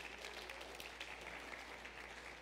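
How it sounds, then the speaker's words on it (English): Faint clapping from a church congregation during a Sunday service, a soft continuous patter of many hands heard at a distance over a low steady hum. "give the Lord a clap offering for that"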